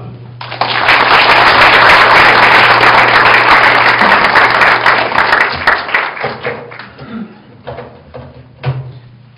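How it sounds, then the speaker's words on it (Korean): An audience applauds at a university inauguration ceremony as the new third president is welcomed. The applause is a loud, dense burst that swells quickly, holds for several seconds, then thins into scattered claps near the end. "박수로 음, 맞이해 주시기 바랍니다"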